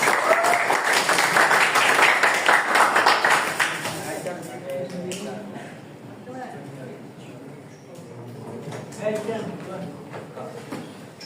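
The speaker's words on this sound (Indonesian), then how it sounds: "Tepuk tangan dong, bersedia." Students in a vocational school classroom clap for a classmate volunteering to come forward, a brisk burst of applause for about four seconds that fades into quieter room noise and scattered voices.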